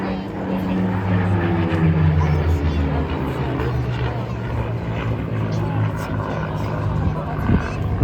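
Vintage aircraft fly over the Blackpool airshow with a continuous droning propeller engine roar that holds steady and loud throughout, while a commentator speaks over a public address system.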